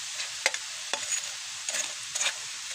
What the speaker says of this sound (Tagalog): So, ganyan lang magprito ng gabi guys.